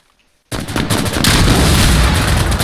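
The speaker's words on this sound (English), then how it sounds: "Hold on, I'm gonna shoot RPG inside." RPG fired in the video game Insurgency: Sandstorm, a sudden loud blast after a moment of near silence, followed by a sustained roaring rumble that holds to the end.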